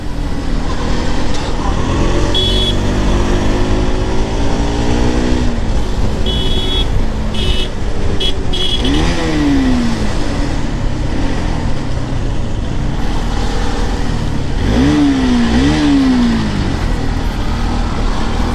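Bajaj Pulsar NS200 motorcycle engine held at full throttle, a loud continuous high-revving drone with rising and falling pitch sweeps, heavy and steady across the whole span with traffic-like roar beneath.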